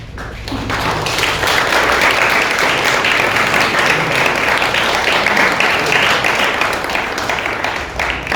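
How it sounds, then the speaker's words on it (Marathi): A church congregation claps steadily and loudly for several seconds, a dense sustained round of applause in a reverberant room. "आपण त्याच्यासाठी टाळ्या वाजवूया"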